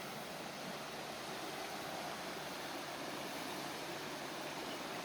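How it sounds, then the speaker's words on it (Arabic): Steady, dense rush of a river flowing through the Finnish countryside near Helsinki, an even broadband wash that stays constant throughout with no voices. "هذا النهر اللي تشوفوه."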